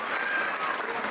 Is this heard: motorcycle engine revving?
no